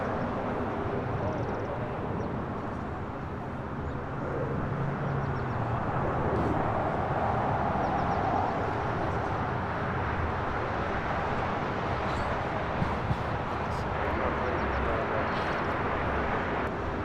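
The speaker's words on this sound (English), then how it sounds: "China Eastern, more than likely, making that right-hand turn onto Lima for a north side takeoff on 24 left." China Eastern airliner taxiing at LAX toward a north-side takeoff, heard as a steady, distant broadband engine rumble and hiss that holds evenly throughout with no talk.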